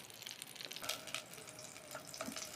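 Fish roe fritters sizzle in hot oil in a pan, a soft, steady crackle with small popping bursts, faint and continuous with no talk.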